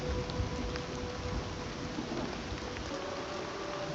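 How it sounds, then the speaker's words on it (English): Steady heavy rain pours with rumbling thunder underneath in the Oblivion Remastered video game, a dense continuous wash of storm noise throughout. "Oh, it's raining. That's cool."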